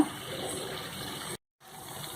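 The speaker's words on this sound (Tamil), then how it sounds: "இப்போ நான் கொஞ்சம் தண்ணி விட்டுருக்கேன்." Water pours steadily into a pan of onion and tomato for channa masala with a rushing hiss, stops briefly, then resumes.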